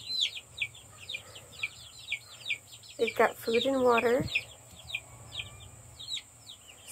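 Chickens kept in a homestead coop cluck and chirp in short, scattered calls, with a louder burst of squawking in the middle, while a person talks nearby.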